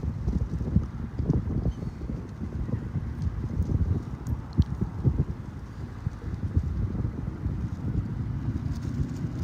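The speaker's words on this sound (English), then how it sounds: "It's just windy." Steady outdoor wind buffets the microphone in a low, continuous rumble with gusty swells throughout, and no other clear sound stands out.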